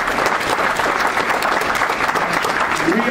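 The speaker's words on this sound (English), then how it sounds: "How about a round of applause for the best AD in the country?" Sustained audience applause at a university athletics welcome event, a dense steady clatter of many hands filling the room from start to finish, with faint crowd murmur underneath.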